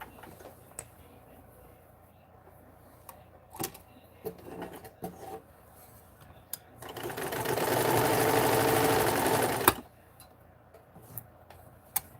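A 1943 Montgomery Ward sewing machine runs a test stitch: scattered clicks and taps, then a steady, loud mechanical whir for about three seconds that stops abruptly, followed by more light clicks.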